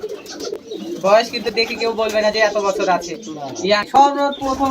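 Pigeons cooing at a pigeon farm, soft repeated throaty coos close by, heard beneath a voice talking over much of the clip.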